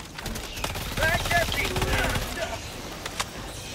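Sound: machine pistol gunfire in the video game Helldivers 2

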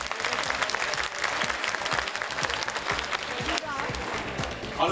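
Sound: studio audience applause

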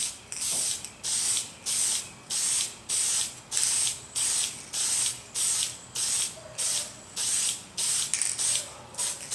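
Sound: aerosol spray paint

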